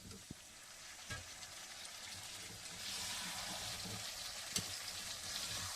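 Potato pieces tumble into pork already cooking in a pan for a village-style Assamese pork dish, followed by a steady broadband sizzle that grows louder and denser midway, with a few small clunks of food landing.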